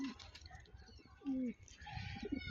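Siraji pigeons in Rajasthan give low, soft coos close by, a short rolling call standing out over faint background rustle, with no talking.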